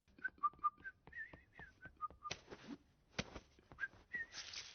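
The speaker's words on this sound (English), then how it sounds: "Banana Bob whistles pizza pizza pizza in the compilation." Banana Bob from The Amazing World of Gumball whistles a bright, bouncy little pizza-pizza-pizza tune in short chirpy notes, followed by a few sharp bursts of cartoon noise.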